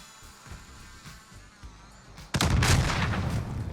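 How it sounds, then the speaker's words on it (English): A sharp, close gunshot in a first-person shooter video game cracks out once after a quiet stretch, followed by a loud rumbling burst of continued fire and impact noise. "I got shot in the fucking head."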